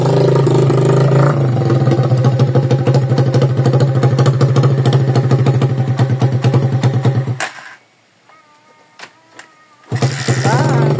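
A Rusi TC125 motorcycle engine starts and runs at a rapid, even idle with dense mechanical ticking, loud and close. It cuts out briefly near the end, then catches again.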